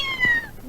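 A person imitates a cat's meow in a Tamil film scene, producing one close, drawn-out meow whose pitch slides downward in under a second.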